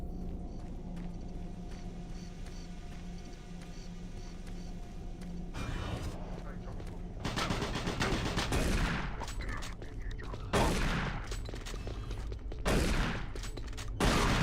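Gunfire in the shooter Doom 3 BFG comes as several loud bursts of shots over a constant droning game ambience, with someone briefly talking over it.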